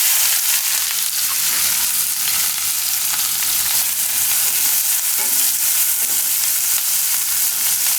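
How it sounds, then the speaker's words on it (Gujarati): Onions fry in a pan with whole cumin and asafoetida for a Mughlai paratha, giving a loud, continuous, close sizzle with no talk. "ડુંગળીને થોડીક વાર પાકવા દઈશું આપણે, 1 મિનિટ જેવું."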